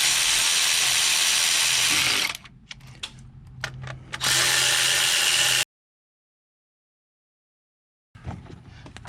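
A ratchet snugs up bolts on a Ford F-150 3.5 EcoBoost engine, giving loud bursts of rapid clicking close up, then a short pause. The clicking resumes and breaks off into silence before quieter handling noises return.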